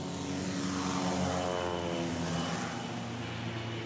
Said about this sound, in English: Get some small planes coming in.